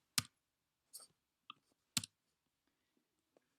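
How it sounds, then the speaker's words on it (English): A computer mouse clicks sharply about four times at uneven intervals in a quiet room, each click crisp and close. "So I will click all these away."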